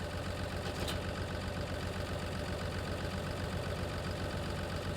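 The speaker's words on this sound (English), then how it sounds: "I will first jump in our JCB fast track" JCB Fastrac tractor engine in a farming simulator game, a steady idling rumble with constant low drone and even loudness throughout, no talking and one faint brief click early on.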